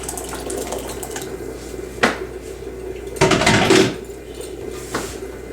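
Excess water is poured off in a home kitchen while cooking, giving a short splashing gush among light clinks of dishes and utensils over quiet background noise.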